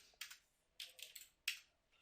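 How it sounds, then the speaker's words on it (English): Four quick, faint clusters of clicks from a computer keyboard being typed on during spreadsheet editing, uneven in rhythm with short gaps between, close and quiet without any voices. "Now if I try typing something"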